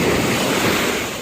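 Ocean surf rolls onto the sand at South Beach, Miami Beach, Florida on a sunny day, a steady loud wash of breaking waves mixed with wind rumble and no voices.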